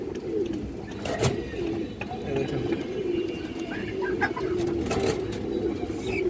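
A big Bagha female pigeon and others around her on a farm give soft, repeated throaty coos over a steady background of bird murmur, close by, with occasional voices nearby.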